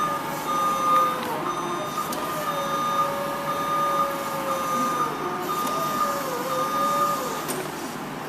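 A forklift backs up during a pre-use inspection, its reversing alarm beeping steadily in a repeating pattern over a low idling engine hum that rises and falls.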